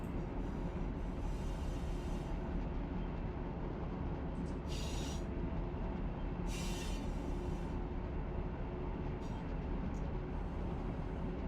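Heavy CSX freight train rolling down a steep 1% grade in the Run 8 train simulator, with a steady loud low rumble of rail cars throughout and brief high wheel squeals standing out over it.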